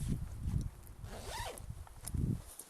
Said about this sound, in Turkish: fermuarını da çek